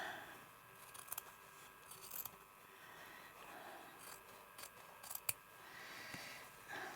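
Scissors snip fabric for a crazy patchwork embroidered journal cover, a few quiet, close, scattered cuts against a soft, hushed background.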